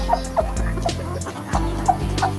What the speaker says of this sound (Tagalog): Yan, malalaki yung rooster ko dito. Rhode Island.